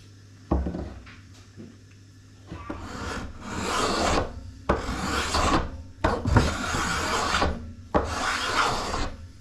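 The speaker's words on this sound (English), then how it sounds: "spoke shave to thin down the limbs in a much more controlled manner" A spokeshave shaving down the wooden limbs of a plains-style bow at a kitchen table, heard as four long, loud rasping strokes close up, separated by brief pauses and preceded by a knock.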